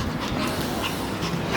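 A dog indoors in a home, whimpering and panting close by in a noisy room, with soft yips and breathy sounds running throughout the short stretch.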